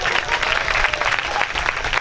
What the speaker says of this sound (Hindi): और प्यारे एक बार इनके लिए भी जोरदार तालियां बजाओ